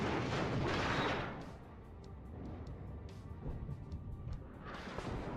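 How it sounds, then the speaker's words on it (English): Gunfire from the WARNO wargame, aimed at a tower, comes as distant booming artillery-like rumble with muffled repeated shots and a low continuous roar, at moderate level with no talking. "Dude, shooting the tower here."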